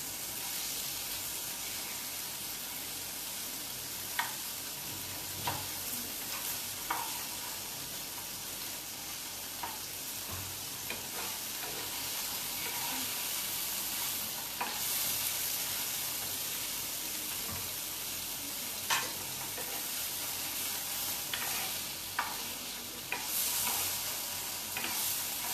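Amul paneer fries in a pan with a constant bright sizzle, while a utensil scrapes and taps now and then as the pieces are stirred; no voices over the cooking.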